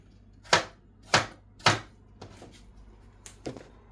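A knife chops tomatoes for a salad on a board, with three sharp, close cuts followed by a few softer, quicker ones and a final pair of crisp chops, all without speech.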